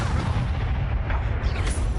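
Incendio fire spell cast in Hogwarts Legacy on PlayStation 5, a loud sustained roaring blast of flame and rumble that fills about two seconds without a break, with no voices over it.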